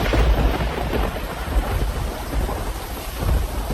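Cartoon storm effect of heavy rain pouring steadily with deep rolling thunder rumbling underneath, loud and continuous throughout, with no voices.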